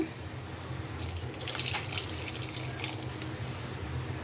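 Water poured from a cup onto jaggery in a pan while making coconut chikki, a steady trickling splash lasting several seconds, moderately quiet and heard alone.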